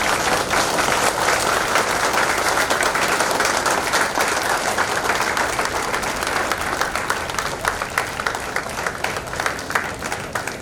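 Loud, sustained applause from a standing crowd honoring a retiring employee at a company gathering, dense steady clapping filling the room for about ten seconds with no clear speech.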